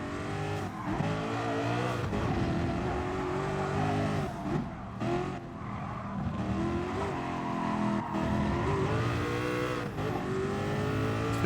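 Bugatti VGT race car in Gran Turismo Sport, its engine howling loud and close with continuous high revving, pitch rising and falling through gear changes for several seconds.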